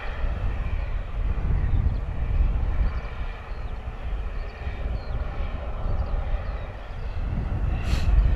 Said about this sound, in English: Looks like our Ryanair is on the way in.